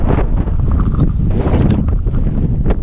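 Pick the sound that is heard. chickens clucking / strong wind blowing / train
strong wind blowing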